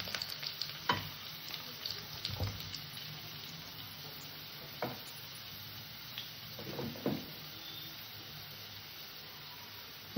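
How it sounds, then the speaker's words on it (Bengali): Potato pieces frying in hot oil, a soft continuous sizzle broken by several sharper spatters and stirring clatters, close and fairly quiet with no voices. "আলু কটাটাও আমি একটু ভেজে নেব"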